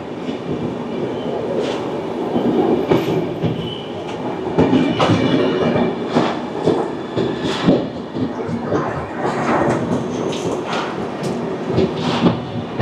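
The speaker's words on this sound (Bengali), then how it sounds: "পাটনা হাওড়া জনশতাব্দী এক্সপ্রেস জাস্ট বেরিয়ে যাচ্ছে" The Patna–Howrah Janshatabdi Express pulls out of Asansol Junction station with a loud, steady rumble of wheels and rhythmic clacking over rail joints, plus faint squeals, close by and continuous.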